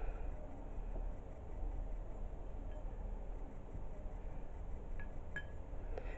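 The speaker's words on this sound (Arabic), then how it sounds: "ونخلط جيدا المكونات." A spoon stirs green leaf henna powder into melted glycerin soap in a bowl, giving soft steady scraping and mixing with a few faint clinks of metal against the bowl near the end.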